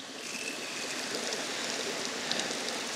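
Water pouring steadily out of a siphon hose through a freshly opened valve, a continuous close rushing trickle with no pauses and no voices.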